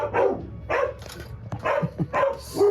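Dogs bark in a quick series of loud, close yelps and woofs, several bursts in a row with brief gaps between them.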